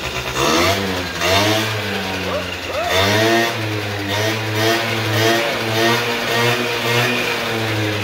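An old two-stroke Buddy scooter engine that sat unused for decades runs with a buzzy, fluctuating drone, revving up and down in repeated surges, close and loud, with a voice talking over it.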